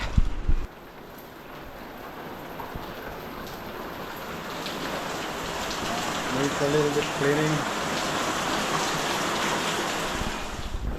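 Steady rain patters on a sailboat during hardtop building work, a dense hiss running throughout with someone speaking briefly near the start.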